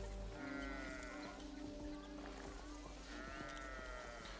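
Sheep bleat in the game Ara: History Untold, two drawn-out wavering calls over a busy backdrop of ambient effects and music.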